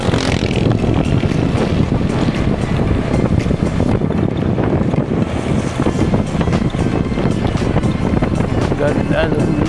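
A motorcycle rides past pineapple farmland in Calatrava, Negros Occidental, its engine drone mixed with heavy wind rush against the microphone, steady and close, with a voice talking over it.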